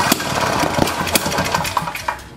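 A small single-cylinder engine with an angled carburetor, set up to run backwards and firing at the wrong time, runs roughly and loudly up close with irregular knocking pops and uneven chugs.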